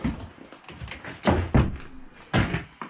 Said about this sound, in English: let's open our door here that keeps closing